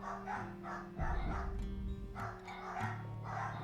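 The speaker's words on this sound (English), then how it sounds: "there are the other dogs barking" Dogs in the video game Bastion bark in quick repeated yips and bow-wows over a low game hum, several barks in a row at moderate volume.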